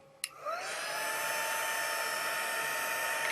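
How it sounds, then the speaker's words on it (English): An embossing heat tool switches on with a sharp click and spins up into a steady, even whoosh of hot air that holds constant to the end, close and fairly quiet. "And so I've got my heat tool"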